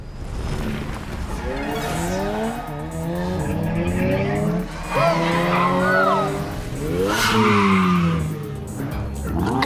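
A car races at high speed down a highway in a video game, its engine pitch sweeping up and down through gear changes with intermittent tire squeals, loud and continuous without any talking.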